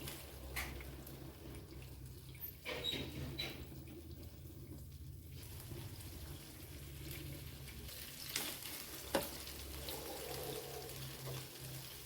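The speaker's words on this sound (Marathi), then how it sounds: "असे थोडे भिजवून घ्यायचे आपण हे ना तुपामध्ये असे वगैरे ठेवूया तूप घातलंय भांड्यामध्ये" Bread slices soaked for French toast fry in ghee in a home kitchen pan, giving a steady low sizzle and crackle throughout with a few brief clinks and splashes, and no talking.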